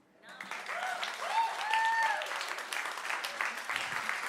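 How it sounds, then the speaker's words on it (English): Warm, sustained applause from a congregation at a Sunday celebration service rises from quiet and holds steady, while a voice speaks over it in the middle. "Thank you for that passionate applause"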